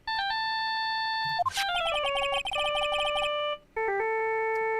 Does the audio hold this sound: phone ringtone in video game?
yes